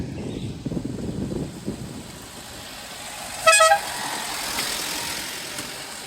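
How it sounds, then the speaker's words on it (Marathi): A vehicle comes along a hill road near Ahupe Ghat. A low engine rumble is followed by one short, loud, close horn honk partway through, then quieter road noise. "हे गाडी आली गाडी आली बाजूला"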